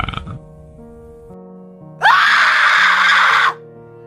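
A woman screams from inside a bedroom: one loud, sustained shriek of about a second and a half that bursts in after a quiet stretch of low, eerie music.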